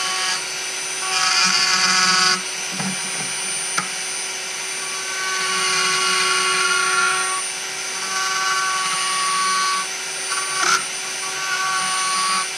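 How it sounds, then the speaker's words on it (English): A Dremel rotary tool cutting slowly through a small plastic trim piece during a Camaro grille mod, a loud high-pitched whir that rises and dips as the bit bites into the plastic, with no talking. "Now I'm gonna Dremel it down. Nice and slow because it's plastic."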